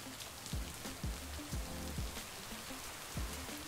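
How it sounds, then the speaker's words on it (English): Steady rain patters and hisses on a surface close by, a constant dense wash of drops with a few heavier dull thuds mixed in. "The rain is so loud."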